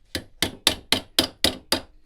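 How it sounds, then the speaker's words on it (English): A ball peen hammer strikes stainless steel seven times in an even, quick rhythm, each blow loud, close and ringing sharply, with no talk over it. "Let's do one more little bit of hammering right over here."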